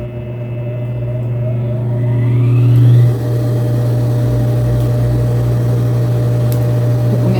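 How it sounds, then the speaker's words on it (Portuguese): Electric fan switched on in a hot sewing room, a steady loud motor hum with a constant whooshing airflow that stays even throughout, briefly swelling near the start. "Tá um barulhinho aí, porque eu tô com o ventilador ligado"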